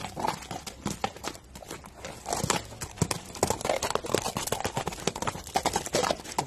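A Kyrgyz horse's hooves clip-clop in a busy, irregular patter of close strikes, mixed with rustling and scuffing noise.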